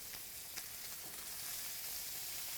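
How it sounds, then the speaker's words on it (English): Steady sizzling of butter and garlic in a hot pan for ribeye, a broad crackling hiss with a few small pops, close and continuous. "You can hear that sizzle."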